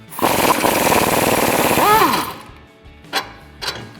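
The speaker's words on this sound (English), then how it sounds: "So I'm just gonna take my 21mm socket, I'm just gonna loosen this guy up." A 21mm socket on an impact tool loosening the rear track bar bolt on a 2019-2023 RAM 1500, a loud rapid hammering burst that winds down after about two seconds, followed by a few faint clanks.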